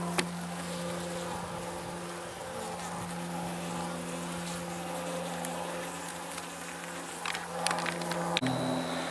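Honeybee drones buzz in a dense, steady drone at a weak, queenless hive holding little pollen, heard up close during an inspection, with a slight shift in the tone near the end.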